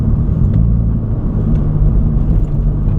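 A car, apparently a Subaru-Toyota FRS with ABS and traction-control warning lights lit, rolls over a bumpy road, giving a steady close engine-and-road rumble with faint jolts along the way and no talking.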